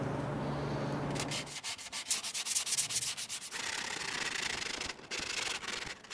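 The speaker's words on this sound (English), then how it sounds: "It's like rubbing in joint compound into those gaps." Joint compound being rubbed by hand into the gaps of a concrete boulder form, a steady close scraping and sanding rasp that runs continuously with brief pauses and strokes.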